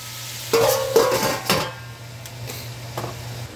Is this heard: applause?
no